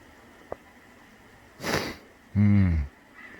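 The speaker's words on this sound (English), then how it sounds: "Sniffles." A short click, then a single loud sniff through the nose, followed by a brief voiced grunt or snort; close and otherwise quiet.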